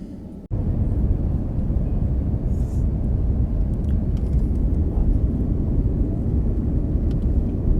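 The loud, steady roar of an Air India Airbus A350 on a runway, continuous and close, with no voices.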